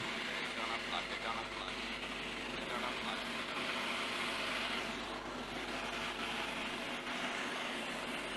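A military helicopter hovers overhead during a fast-rope rescue demonstration at a Ghana Independence Day event, producing a steady, loud rotor and engine drone that fills the whole stretch without letting up.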